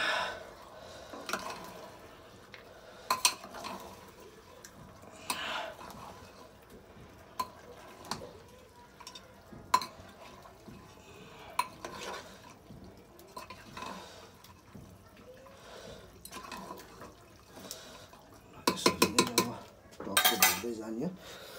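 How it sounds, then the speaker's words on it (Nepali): Meat being stirred in a cooking pot with a ladle, giving scattered metallic clanks and scrapes against the pot between quieter stretches, with a denser cluster of clattering toward the end. "अब चाहिँ टालोले समाएर सही चलाउने हो"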